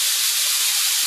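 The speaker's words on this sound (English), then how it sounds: "You can hear it cooking." Hamburger patties seasoned with Worcestershire sauce and pepper sizzle in a home kitchen, a loud, steady, close hiss with no break and no talking.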